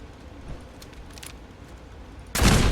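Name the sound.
gunfire in video game Fallout 4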